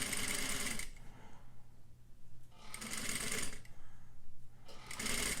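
A sewing machine stitches bias facing along a neckline, its fast mechanical whirring running in three bursts with short slower pauses between them, close and steady.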